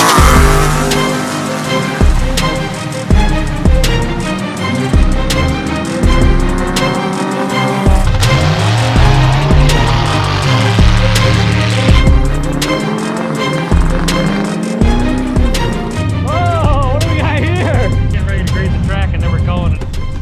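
Electric 72-volt golf carts drag racing side by side, with a busy mix of whirring motors, tire noise and rising pitch sweeps as they launch, loud and close, with crowd voices and talk mixed in throughout.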